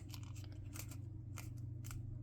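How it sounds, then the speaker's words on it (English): Scissors snip through paper in several quick crunchy cuts, close and crisp, with no talking. "Then we get our scissors and cut this off."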